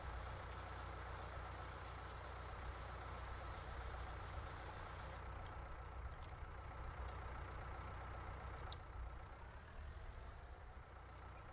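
A farm tractor idling steadily on a small farm, a constant low engine rumble running for over ten seconds with no other sounds.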